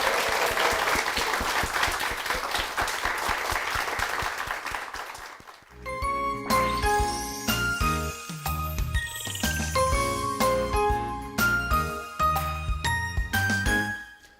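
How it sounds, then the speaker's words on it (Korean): A church congregation at Jeongam Church applauds after members share testimonies, a dense loud clapping that fills the first half before giving way to bright chiming, tinkling music with a bass line. "우리 힘찬 박수 부탁드리겠습니다"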